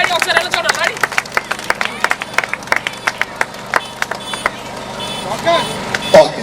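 Congregation clapping at an outdoor church rally: rapid, uneven handclaps from many people, loud and close, mixed with crowd murmur.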